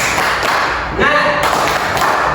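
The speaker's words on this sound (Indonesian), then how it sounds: "Yuk kita untuk semangat dulu. Tepuk semangat." A class of elementary schoolchildren does a rhythmic group clap, a few loud, sharp beats of hands striking together in a short pattern, with children's voices mixed in between the claps.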